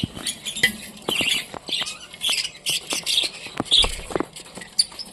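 Budgerigars, including a white albino red-eyed bird and its chick, chatter and squawk in sharp, rapid bursts throughout, with quick scratchy chirps and occasional fluttering close by.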